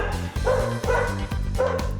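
Dogs in a large indoor dog park bark and yip in quick repeated bursts, loud and close, several barks overlapping with slight whimpering tones and no talk.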